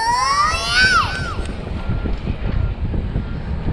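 Strong seaside wind buffets the microphone while cycling along the coast at Dingalan, Aurora, a loud steady roar with gusts, with a brief whistling tone near the start.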